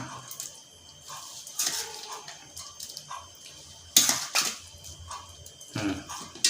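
Thai chicken larb being stirred in a large dish, with soft scraping and clinking of a utensil against the dish and moist mixing sounds, moderately close, with a few louder clanks scattered through.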